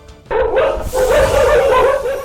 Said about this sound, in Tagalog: Hindi natinag sa tahol ng mga aso ang grupong ito